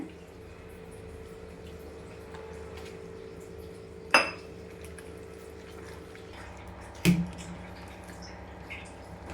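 Wheat flour and jaggery dough is mixed with water by hand in a bowl for sweet bonda, producing quiet wet squishing and a couple of sharp clinks against the vessel over a low background hum.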